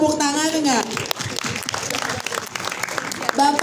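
A theater audience at a film trailer launch claps steadily for a few seconds, filling the room with dense applause while a voice speaks over it at the start and end.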